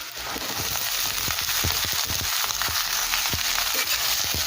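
Beans, cauliflower and carrot fry with onion and ginger in a pan for veg chowmein, a steady loud sizzle broken by frequent sharp clicks of stirring, with no voices.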